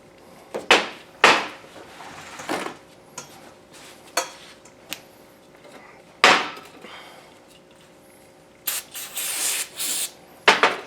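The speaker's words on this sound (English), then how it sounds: "give it a quick spray down with some brake parts cleaner" Several short hissing bursts of aerosol brake parts cleaner sprayed on a Saab 9-3 XWD rear axle, some brief and some longer, separated by quiet gaps with occasional light clinks and handling noises.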